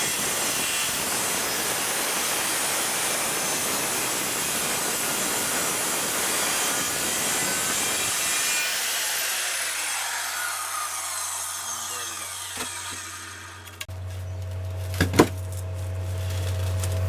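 A circular saw cuts through plywood, a loud, steady, broadband rasp for about nine seconds, then the blade winds down with a low hum and a few clicks.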